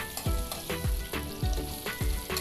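Sabudana khichdi with potatoes frying and sizzling in a pan while being stirred, with several regular scraping strokes of the spoon over a steady sizzle, close and fairly loud.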